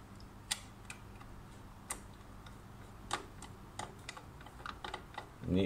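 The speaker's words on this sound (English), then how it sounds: "you get a magnetic screwdriver is advisable. So you need to take out these three screws." A magnetic screwdriver backs out screws on an Epson L1800 printer during head cleaning, giving sparse, faint, irregular clicks and ticks against a quiet room.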